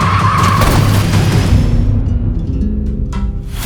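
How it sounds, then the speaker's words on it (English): McLaren race car crashing, a loud rumbling roar with skidding noise that fades out over a few seconds, heard from trackside with no talk. "One of the McLarens just crashed."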